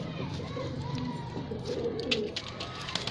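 A Madrasi pigeon coos softly in low, murmuring phrases against a background of other birds chirping and a busy outdoor din.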